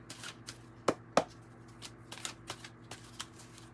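An oracle card deck is shuffled close by with a string of soft, quick papery riffles and taps, alone and fairly quiet.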